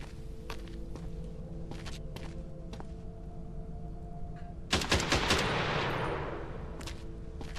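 Gunfire in a quarantine-zone video game: a burst of several sharp shots around the middle, with a loud blast and a decaying rush after, over a steady game hum and some footstep-like thumps.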